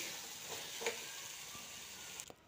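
Tomatoes, green chillies and tamarind deep-fry together in a pan, making a soft, continuous sizzle close by with a few scraping stirs and no talk.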